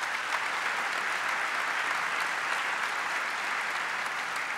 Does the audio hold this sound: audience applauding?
yes